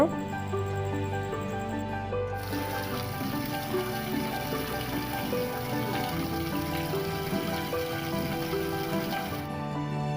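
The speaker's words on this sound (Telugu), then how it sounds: "ఆ రోజు అంతా కూడా వర్షం అయితే ఇంకా మార్నింగ్ వచ్చింది ఇంక ఈవినింగ్ వరకు కూడా వర్షం అయితే వదలలేదండి" Heavy rain pours steadily on surfaces through a village day, a dense, unbroken hiss that stays loud and even throughout, with no voices over it.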